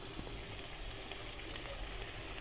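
Duck meat frying in a covered pan over low gas with ginger, a steady quiet sizzle and faint crackle throughout, soft and continuous with no voices.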